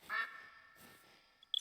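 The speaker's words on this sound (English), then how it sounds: "I can hear ducks out there." Ducks quack in the hunting video game The Hunter: Call of the Wild, set in the Vurhonga savanna reserve, with one brief, moderately distant burst of quacks followed by faint, quiet ambience and a short chirp near the end.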